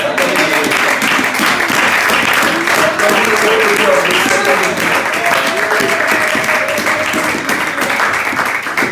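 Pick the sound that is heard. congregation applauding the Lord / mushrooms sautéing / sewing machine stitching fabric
congregation applauding the Lord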